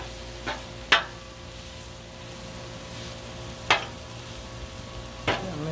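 Cabbage, fingerling potatoes and sausage sizzle steadily on a Blackstone griddle with the heat switched off, a continuous frying hiss broken by three sharp scraping stir strokes.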